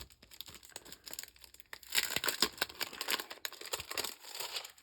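Double-sided tape has its backing peeled away during a foiled Christmas ornament craft, giving close crinkling and tearing rustles that grow denser and louder partway through, with no voices.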